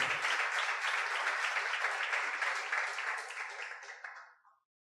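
A church congregation applauds during a Spanish-language service, a dense, steady wash of many hands clapping together that holds, then fades out near the end, fairly distant and soft.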